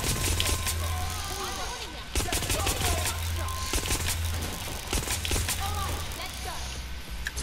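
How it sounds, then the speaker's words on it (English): Rapid bursts of gunfire in the video game Watch Dogs Legion, loud sharp cracks repeating in quick volleys, with a voice talking over them. "These aren't just gunshots, these are paralyzing gunshots."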